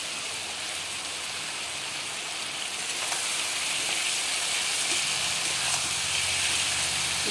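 Potatoes frying in a pan for a red pumpkin dish, with fried peanuts about to go in; a dense, even sizzle that grows slightly louder partway through, with faint stirring.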